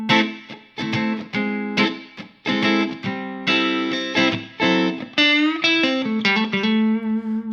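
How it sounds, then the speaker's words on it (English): Electric guitar played in a rock or pop style through a subtle spring reverb, sounding alone with strummed chords and single notes that ring briefly and thicken slightly with a light wash of tail. "So that was a subtle spring reverb"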